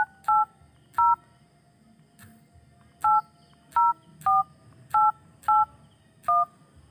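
Dual-tone phone keypad beeps punch out a transfer code on a mobile network: nine short, evenly clipped tones in quick bursts with brief pauses between, clear and close with faint room noise behind.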